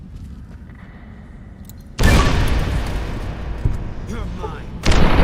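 Grenade explosions in Fallout New Vegas go off in a cave against giant ants: after quiet game ambience, a loud booming blast hits and rumbles on, with a second burst near the end and a voice speaking briefly.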